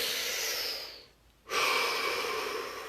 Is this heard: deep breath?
yes